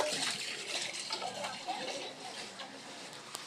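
Floodwater outside a house makes a steady broadband wash of rushing and pattering water at moderate level, with faint voices in the background.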